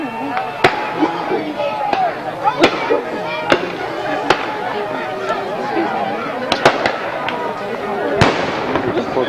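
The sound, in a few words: Civil War reenactment artillery batteries firing cannons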